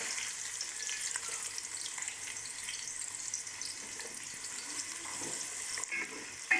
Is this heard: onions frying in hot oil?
yes